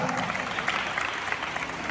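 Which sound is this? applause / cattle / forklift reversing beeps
applause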